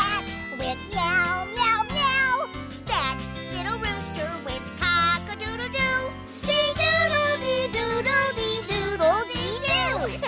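Repeated cat meows over a busy musical background, with sliding, pitch-bending calls that may be a voice or instrument imitating a cat.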